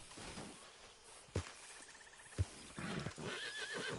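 A horse in the Western video game Red Dead Redemption 2 neighs and whinnies, with a couple of sharp hoof thumps and some clip-clop amid outdoor ambience and faint birds.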